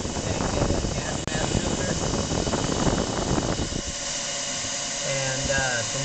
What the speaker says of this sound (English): that's just a blower motor out of a 1400 watt hair dryer